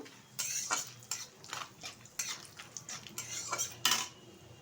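A metal spoon stirs already-fried peanuts and raisins in a pan, clinking and scraping in quick irregular bursts, close up, with no voices.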